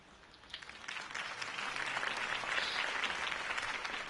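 A video game crowd applauds steadily, the clapping building from moderate to full and staying sustained for several seconds.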